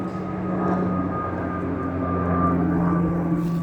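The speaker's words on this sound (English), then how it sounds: "There's another airplane going by." A propeller airplane's steady engine drone passes overhead above a backyard garden in early spring, a constant mid-level hum with low tonal bands and no talk.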